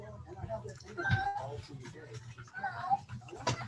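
A pet cat named Chloe meows softly indoors. Its short mews come through under a woman's affectionate baby-talk, with voice and cat overlapping throughout.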